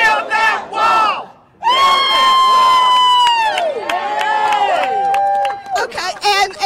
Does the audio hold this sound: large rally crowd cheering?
yes